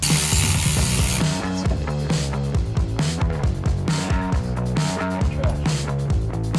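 On a Toyota Tacoma, the top nut comes off a Fox 2.5 shock with a rapid, continuous mechanical ratcheting from a power tool, loud and close, rattling throughout.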